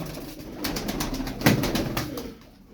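Crested çakmaklı pigeons coo in a soft, low murmur with a slightly louder swell midway, close by and steady, without talking.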